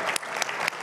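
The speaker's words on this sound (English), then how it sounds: "you can applaud for them" Members of an annual membership meeting audience clap for the directors standing to be acknowledged, a steady burst of many hands with a few louder individual claps standing out, close and brief.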